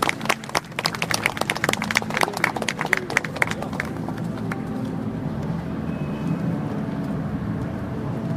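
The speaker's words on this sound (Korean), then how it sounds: "여러분 박수 부탁드립니다" An audience at a memorial evening applauds. Dense, crisp clapping is strongest at first, then thins and fades into a low murmur of crowd noise.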